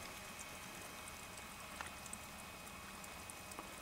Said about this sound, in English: Just the water dripping.